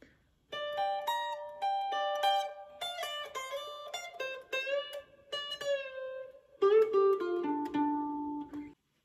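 Electric guitar plays a lick from a song's solo, taken from a 6/23/1992 live album, with a full-step bend. Clean single notes are picked in a quick run, then a bent note rises and sustains near the end, close and alone.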